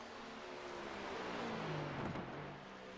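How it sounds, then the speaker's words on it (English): A stock-car racing engine in a video game race at Charlotte Motor Speedway drones steadily and loudly, its whining pitch easing slightly downward as the car passes and fades off. "looks like I hear that car starting to dwindle off a bit"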